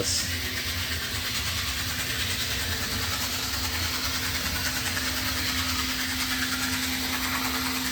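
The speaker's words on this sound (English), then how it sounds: "I think it's just the nature of this drive is kind of noisy." A Bachmann HO scale Brill trolley in Hershey Chocolate Town livery running on its motor drive, giving a continuous loud mechanical whir with a steady hum and gear buzz throughout, with no voices over it.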